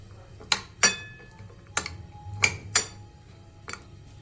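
Chopped onion, cucumber and tomato salad being mixed in a bowl, giving six or so sharp, separate clinks of a utensil against the dish at irregular intervals over a quiet background.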